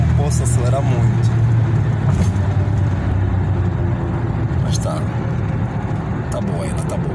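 A Mitsubishi L200 pickup drives at low speed with a steady engine and road rumble heard from inside the cab, while someone talks over it throughout.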